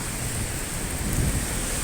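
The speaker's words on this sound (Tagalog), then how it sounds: "malapit na dito sa may crossing, buhos ang ulan. Grabe ang lakas." Steady, dense hiss of heavy rain pouring down, with a low rumble underneath that swells slightly midway; no voices.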